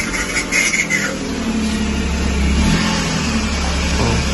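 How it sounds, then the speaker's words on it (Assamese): A parked car's engine runs steadily while warming up after starting, a loud, continuous mid-pitched drone with slight swells in revs, close by, with a faint voice early on. "অলপ গাড়ীটো গৰম হৈ লওক।"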